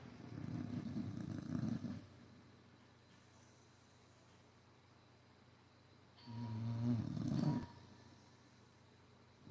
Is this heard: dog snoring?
yes